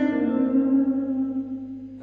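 An electric guitar note through a Cheyne Sirius parallel blender pedal with a large reverb, a single sustained tone ringing out and slowly decaying as if from far off in a huge room, heard alone.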